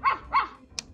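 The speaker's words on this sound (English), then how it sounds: "plays silly puppy sounds and phrases to get toddlers moving and pretending to be like their furry friend." A Fisher-Price 123 Crawl With Me Puppy toy lets out two quick electronic bark sounds followed by a short high chirp, close and clear with no talk.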